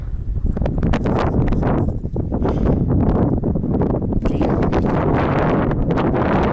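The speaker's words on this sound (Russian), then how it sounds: "Ветер, легкий бриз, можно сказать." Wind buffets the microphone in a continuous loud rumble with gusty flutters on Mount Elbrus in winter, nothing else clearly audible over it.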